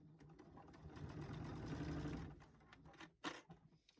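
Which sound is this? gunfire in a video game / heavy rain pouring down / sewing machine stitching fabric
sewing machine stitching fabric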